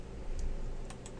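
A single key press, the delete key, on a computer keyboard during 3D modeling work in Maya, heard as faint soft clicks over a steady low background hum with no talking.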